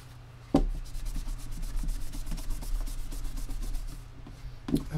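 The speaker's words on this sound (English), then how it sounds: "Sometimes it'll take that out if you rub hard enough and long enough." A cloth rubs Meguiar's fine cut wax cleaner into a guitar body, a close, steady back-and-forth scrubbing with fast regular strokes for several seconds, framed by two soft knocks.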